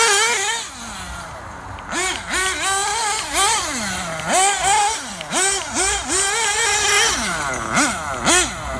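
A Losi 8ight RTR nitro buggy with home-made parts runs on old, watered-down nitro fuel. Its small engine revs loud and close in quick repeated throttle blips, each rising and falling pitch sweep running nearly back to back with no talking.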